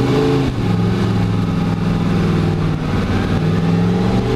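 A 1969 Camaro Z28 engine pulls hard in a continuous loud, rumbling drone, its low tones climbing slightly as it gathers power, heard close and steady with no talking.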